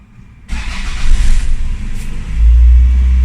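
A car engine with its oil warning light staying on cranks briefly on a cold start and catches, then settles into a loud, close, steady rumble at a slightly high idle.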